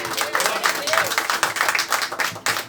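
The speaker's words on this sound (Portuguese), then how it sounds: "Então aplaude o Senhor." A congregation at a Brazilian church service applauds in a dense, continuous wash of clapping while voices carry over it throughout.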